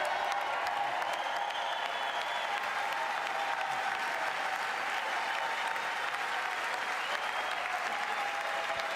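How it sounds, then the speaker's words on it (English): Members of Congress applaud at the State of the Union 2023 as the President is introduced, a steady, dense wash of clapping that fills the chamber continuously, with a faint crowd murmur beneath. "See, even Republicans are clapping."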